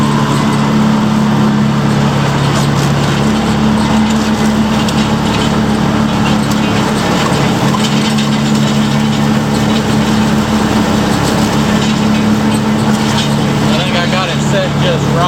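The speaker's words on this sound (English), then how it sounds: "Well, the mower seems to be working pretty good." A new lawn mower runs continuously, cutting grass on a freshly finished runway with a loud steady engine drone and a strong low hum, while someone talks over it now and then.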